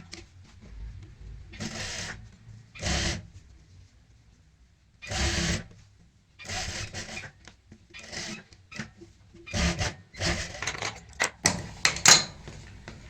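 A sewing machine stitching a Punjabi kurti jacket, running in short separate bursts with quiet pauses between them, close and fairly soft, with a few faint handling noises.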